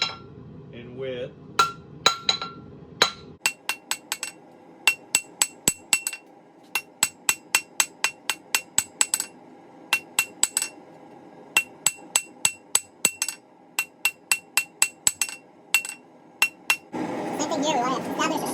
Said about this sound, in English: And we're only going to draw out or taper on two sides.